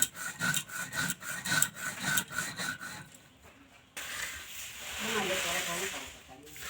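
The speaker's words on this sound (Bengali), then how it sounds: "এইভাবে যদি শিলনোড়া বা মিক্সিতে গুঁড়ো করা যায়" Sugar being ground on a shil-nora grinding stone, a rhythmic rough rubbing and scraping back and forth for about three seconds, then a brief pause and a broader hissing grind, close and fairly quiet.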